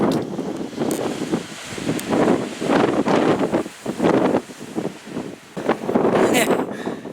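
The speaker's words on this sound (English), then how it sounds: "Another helpful individual giving us another heads up about the wind." Strong gusts of wind buffet the microphone on a mountain trail up Guadalupe Peak, roaring in repeated surges and lulls with broadband rushing noise throughout.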